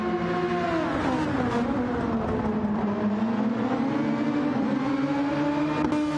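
Race cars in a sim racing endurance round at Maggiore, engines droning loudly and continuously with a rising and falling pitch as they accelerate and lift, teammates running close together, no voices over it.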